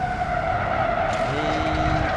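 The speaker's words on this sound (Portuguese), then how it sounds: "Não era pra ter batido assim não" Chevrolet Silverado pickup in the BeamNG.Drive driving game, its tires skidding and squealing with a steady engine drone that holds loud and close throughout, no talk.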